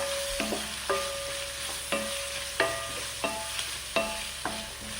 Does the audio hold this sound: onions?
yes